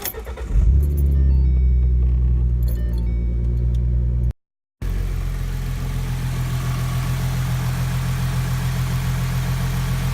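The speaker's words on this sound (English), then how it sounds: "here is a startup of the modified intake tube" A 2011-14 Mustang V6 with a modified intake tube cranks and fires, surging loudly before settling into a steady, rumbling idle close by, interrupted by a brief dropout.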